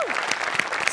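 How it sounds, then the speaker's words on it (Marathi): A studio audience at a Marathi comedy show gives a brief, dense burst of clapping, steady and fairly loud, with a faint voice tone at the very start. "तर त्यांच्यासाठी एकदा जोरदार टाळ्या."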